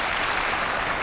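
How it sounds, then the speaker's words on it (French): Studio audience applause on a Chadian television talk show, a brief steady wash of clapping with no pauses. "Un tonnerre d'applaudissements pour vous-même,"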